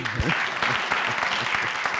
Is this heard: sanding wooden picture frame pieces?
no